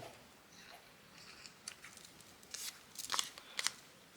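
Scissors snip through fabric in a few quick, crisp cuts close by, faint at first and then sharper toward the end, with soft rustling between cuts.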